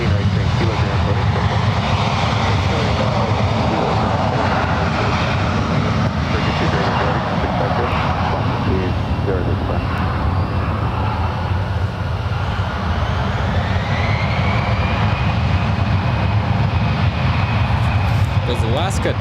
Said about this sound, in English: Goes Alaska 213 down to LAX, Airbus A320.